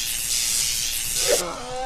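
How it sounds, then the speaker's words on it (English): A steady broadband spray hiss from the Crazy Doctor video game runs for most of the moment, then cuts off abruptly near the end, with faint game tones lingering afterward. "Do I just keep spraying? Spray!"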